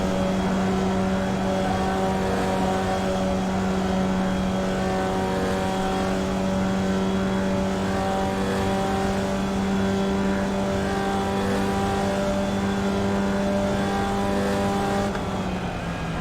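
Formula Vee race car engine in the iRacing video game at Lime Rock Park's Grand Prix layout, a steady buzzing drone held at a constant pitch, loud and close throughout with no talk over it.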